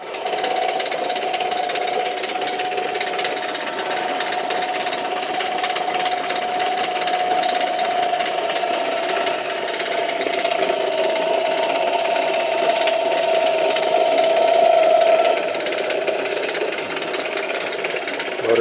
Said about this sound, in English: Motor's making weird sounds,